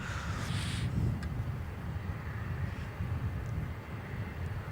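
Jetstar Airbus A320 airliner heading north near Melbourne Airport, a steady broadband roar with low rumble and wind-like hiss that swells briefly near the start, then holds at a moderate, distant level throughout.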